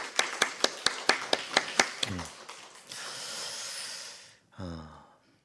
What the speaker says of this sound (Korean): 우리 하나님께 감사와 영광의 박수 한번 올려드릴까요